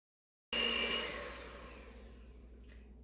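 An electric mixer beats a shortbread butter mixture with vanilla, starting abruptly and holding a steady, close whir that eases slightly as it runs.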